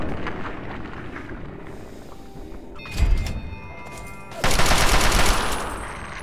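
Gunfire from Fallout 3 lands as a heavy thump followed by a loud, sustained burst of rapid shots with metallic ringing, all over low in-game ambience.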